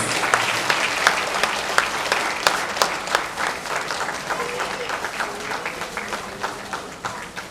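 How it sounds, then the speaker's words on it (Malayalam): An audience at the audio launch of the Malayalam film Vayassethrayayi Muppathi breaks into loud, dense applause that gradually thins into scattered claps, with faint voices underneath. "നല്ലൊരു കൈയടി പ്ലീസ്."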